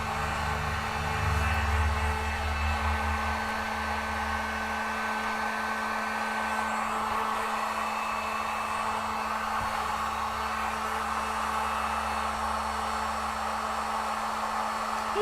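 A hair dryer runs steadily on a painted cabinet, giving a continuous close whooshing hum with a low motor drone. The sound stays constant for the whole stretch, with no talk over it.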